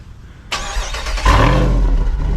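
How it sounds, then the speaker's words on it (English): A Jeep Wrangler 392 Rubicon's V8 barks to life through its active exhaust with a sharp burst, then settles into a deep, loud, rumbling rev close by. "we have that active exhaust to let this thing roar"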